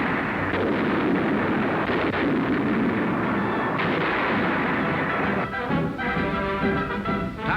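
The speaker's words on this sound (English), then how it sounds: "Heavy fighting continues on Leyte, with American big guns pounding the reinforced enemy." Heavy American artillery pounds enemy positions during fighting on Leyte in 1944, a dense, continuous barrage of booming gunfire and rumbling blasts, loud throughout with no pause, thinning slightly near the end.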